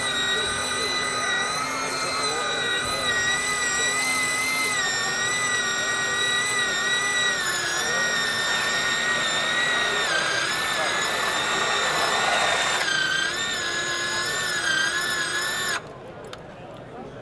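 A single-speed power pipe threader runs with a steady, loud mechanical whine and layered harmonic hum. The tone wavers slightly as it cuts, then drops off abruptly near the end.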